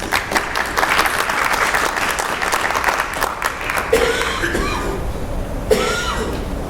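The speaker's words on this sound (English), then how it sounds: "Let's give him a round of applause." An audience at a county school board meeting applauds steadily for a staff member, with a cough and a brief chuckle rising near the end as the clapping thins.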